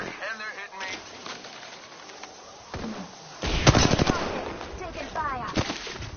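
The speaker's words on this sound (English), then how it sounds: "Shot fired, and they're hitting me." Gunfire rattles in bursts during a video game match, ending in a louder, dense volley of rapid automatic shots near the end. Game audio and chatter run underneath.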